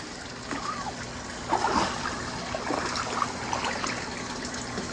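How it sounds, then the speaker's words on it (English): A toy shark squirts and dribbles water in small trickles and splashes, with soft speech-like sounds mixed in. "I'm going, squirting down again."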